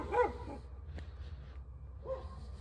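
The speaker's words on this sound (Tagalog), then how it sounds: "May aso." A dog on a street beside a highway in South Korea gives a couple of faint, distant yips or barks, spaced apart over a quiet background hum.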